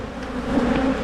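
Honey bees swarm at an open hive, giving a brief, dense, steady buzzing hum at close range with no voices.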